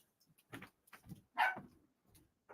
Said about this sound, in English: Prince, the dog.